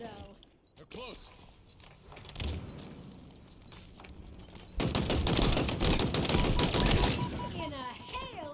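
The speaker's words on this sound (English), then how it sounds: "In a hail of gunfire." Rapid video game gunfire crackles under excited talking, swelling into a dense, loud barrage in the second half.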